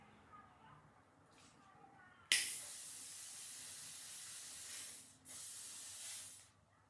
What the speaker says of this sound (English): You can spray just as much on as you want.